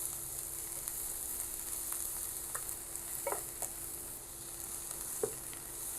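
Onions briefly frying in a pan for a bitter gourd mash, a soft continuous sizzle with a few faint stirring clicks and taps, quiet and close.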